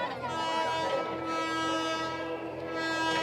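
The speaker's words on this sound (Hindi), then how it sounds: "और ये एक्टिव रेलवे लाइन है जहाँ पर लगातार ट्रेनों की आवाजाही रहती है।" A train passes on an active railway line, a sustained loud horn-like drone with rich harmonics and steady rumble throughout, close by and continuous.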